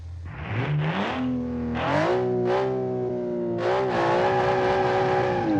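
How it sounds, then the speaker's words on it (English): A boxer six engine in a rear-wheel-drive race car with a space frame body, in the BeamNG driving game, revs up in repeated rising vroom surges, its tone climbing and holding high with a buzzy, distorted edge. "So it's a boxer 6 engine, and we have a space frame body."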